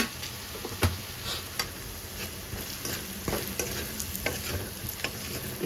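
Okra curry sizzles and fries in a pan while being stirred, steady crackling sizzle broken by several sharp scrapes and clinks of the spoon against the pan, close and alone.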